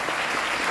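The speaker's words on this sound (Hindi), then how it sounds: "तो तालियां बजाइए वाजिद जाकिर" Audience applause at a foundation event, a dense, steady burst of clapping from many hands, brief and continuous.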